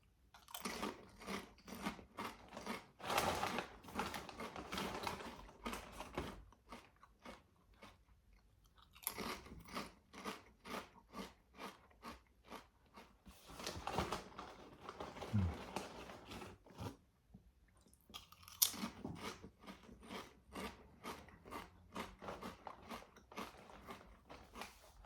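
Crunchy, very thin potato chips flavoured with extra virgin olive oil and Himalayan salt being eaten up close, with repeated sharp crunching bites and steady chewing in bursts, separated by brief quiet pauses.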